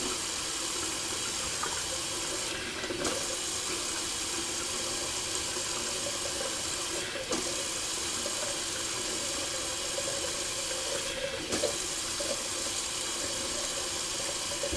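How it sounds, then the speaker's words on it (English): Cold water from a bathroom tap runs steadily for a face rinse during a wet shave, a continuous broadband splashing stream that holds even throughout, with a few brief louder gushes and no talking. "Just going to do a little cold water rinse."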